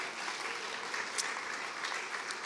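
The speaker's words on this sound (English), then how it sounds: "let's give him a big round of applause for everything he's doing" An audience at a university talk on disability and art gives a big round of applause, a dense continuous wash of clapping heard from a slight distance and moderately soft.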